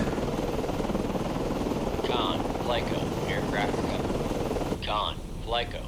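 A helicopter is recovered aboard a submarine in the Cold Waters naval game, heard as a steady, broad rotor-and-engine drone with short bursts of voice chatter over it partway through.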